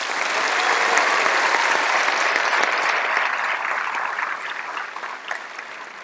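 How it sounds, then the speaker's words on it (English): A high school graduation crowd claps loudly and continuously for a graduate, a thick wash of applause that stays strong before gradually thinning out near the end. "Let's give Tripp a round of applause."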